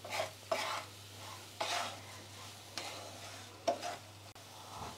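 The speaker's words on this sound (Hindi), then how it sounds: "गैस का फ्लेम हम लो मीडियम करके इस तरीके से हम मूंगफली को नमक के साथ चलाते रहेंगे" Peanuts with salt being stirred in a pan over a low-medium gas flame, with a steady soft sizzle and a gritty scrape roughly every second as the spatula sweeps through them.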